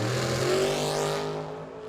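Two drag racing machines launching off the start line at Firebird Motorsports Park, a loud rising engine roar with climbing pitch that peaks and then recedes within two seconds.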